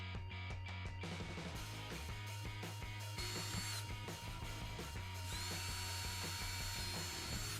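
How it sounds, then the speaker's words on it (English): A power drill bores mounting holes into a kayak hatch for a fish finder, its steady motor whine running continuously and close, with short bursts as the bit bites in. "go ahead, mark your holes, drill them"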